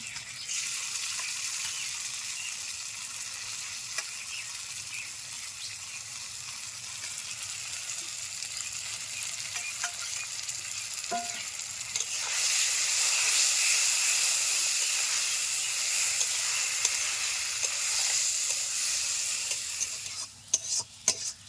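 Bean paste frying over medium heat with browned onions in a pan for a Bengali bean mash, giving a steady hiss and sizzle that swells louder midway, with scattered stirring scrapes and a few clicks near the end.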